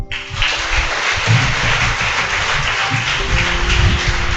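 Loud applause from an audience at a Tamil motivational speech event, a dense steady wash of clapping filling the whole stretch with some low rumble beneath.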